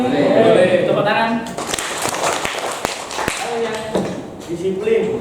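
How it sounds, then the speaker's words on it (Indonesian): Classroom of pupils clapping together, a run of sharp broadband claps and taps filling the middle of the moment, with children's voices before and after. "Boleh. Tepuk tangan."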